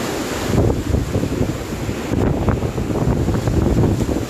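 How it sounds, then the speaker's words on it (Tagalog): Strong wind from Super Typhoon Rolly (Goni) in Naga City, Philippines, roars and buffets the microphone in heavy, continuous gusts, loud and close, with no voices. "Ayan na, malakas na ang hangin."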